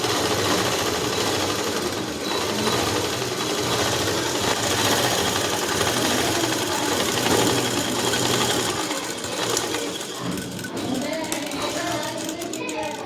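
A sewing machine stitches a Punjabi dress top, running continuously with a fast mechanical chatter that hardly pauses, close and steady.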